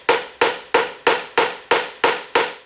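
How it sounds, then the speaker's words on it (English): Small hammer tapping a vacuum fitting into a plastic intake, eight sharp, evenly spaced taps close up, each ringing briefly before the next. "you can take a little hammer and just,"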